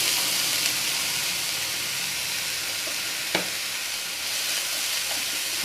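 Vegetable momos sizzle in a hot pan, a steady, close, broadband frying hiss that runs evenly throughout with a single brief crackle partway through.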